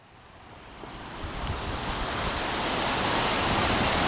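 A waterfall at a river bathing spot, its steady broadband roar of rushing water swelling gradually louder as it draws nearer, with no voices.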